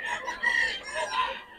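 Several chickens clucking and calling together at a crowded poultry market, overlapping mid-loud bird voices with a brief crow-like rise, no talk.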